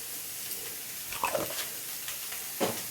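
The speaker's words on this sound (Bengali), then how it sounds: "দেখো সবজিটা প্রায় ভাজা হয়ে এসছে" Vegetables frying in oil in a pan for home-style mixed rice give off a steady, soft sizzle, with a few sharp stirring scrapes and clicks close by. No one talks.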